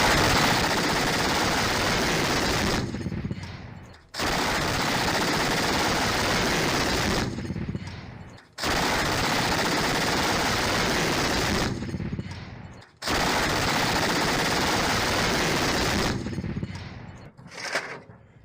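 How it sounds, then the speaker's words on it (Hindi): A Polish-supplied autocannon firing at Russian positions in the war in Ukraine, loud sustained bursts of rapid heavy fire lasting several seconds each, separated by short quiet gaps. "ऑटो कैनन से रूस की पोजीशंस पर हमले की ये तस्वीरें देखिए"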